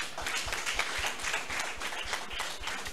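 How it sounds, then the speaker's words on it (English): Steady applause from a crowd at a graduation ceremony, dense overlapping claps filling the whole stretch at an even, moderate level. "So, a round of applause for them."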